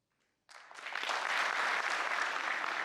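An audience at a talk at IIT Delhi bursts into sustained applause, a dense wash of clapping that swells after a brief silence and stays loud and steady.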